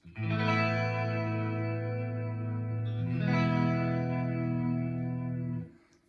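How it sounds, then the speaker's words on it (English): A clean electric guitar chord rings out through a fully wet vibrato effect with a steady warbling pitch wobble, then a second chord follows, both sustained before fading. "Now in the loop I've got a vibrato. So totally wet, that sounds like this."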